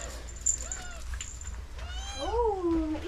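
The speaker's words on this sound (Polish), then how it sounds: "Umiera z głodu ten kotek." A hungry cat gives several plaintive meows, the last one long and rising, close to the microphone over a low background hum with a little speech nearby.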